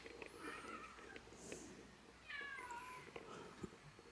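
A cat meows twice, a short call near the start and a longer rising one a couple of seconds later, both fairly faint against a quiet indoor background.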